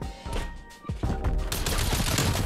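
DMR-14 rifle gunfire in Black Ops Cold War: sharp shots in a rapid, steady string, loud and close, carrying on for most of the stretch after a brief quieter opening.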